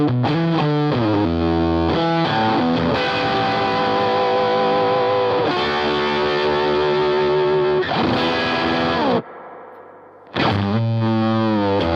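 Electric guitar played through a Triungulo Lab JF Fuzz, a germanium Mosrite Fuzzrite clone, with amp reverb on: loud, buzzy sustained chords and riffs ring out alone, briefly thinning to a quieter decaying note before the full fuzz returns.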